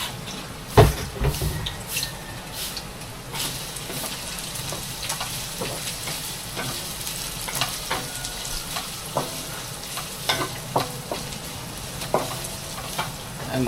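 Pancit noodles are being sautéed in a pan, with steady close sizzling broken by frequent scraping and clattering stirs. No one speaks.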